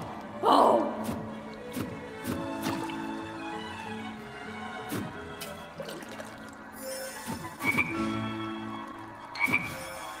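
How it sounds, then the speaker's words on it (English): A frog croaks in the Waltz of the Wizard VR game, a loud croak up front followed by scattered croaks and wet, dripping sounds over a steady, busy background. "A slithering, slimy frog!"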